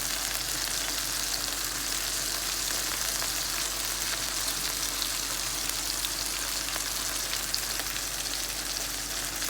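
Boneless chicken breast sears in a hot pan, giving a steady, even sizzle and crackle that runs unbroken from start to finish with no one talking.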